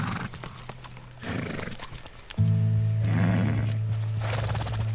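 Horse hooves clip-clopping in Red Dead Redemption 2 near the frontier town of Valentine, steady close hoofbeats with a neigh and a sustained low in-game drone rising partway through.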